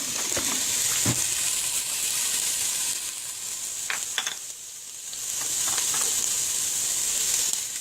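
Chopped onion hits hot olive oil in a pot and sizzles in a steady, close, bright hiss, with a few clinks of stirring partway through and no talking.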